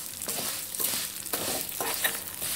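Vermicelli roasting in ghee for milk payasam, a steady close sizzle with soft scraping strokes of a spoon stirring through the pan at an uneven rhythm.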